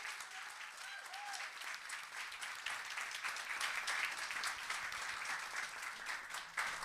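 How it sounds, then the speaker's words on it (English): Audience applause at a school board meeting, a sustained and fairly quiet round of clapping from the room that continues evenly throughout. "give them a round of applause and encouragement"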